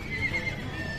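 At a busy horse market, a horse's thin whinny rises out of a dense crowd-and-hoof bustle, the call faint and drawn out across the short stretch.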